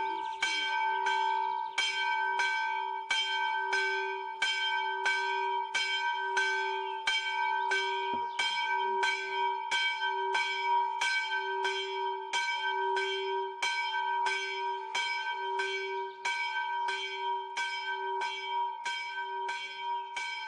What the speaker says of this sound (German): Dann erklingt die Glocke am Huthaus an der Binge und ruft zum stillen Gedenken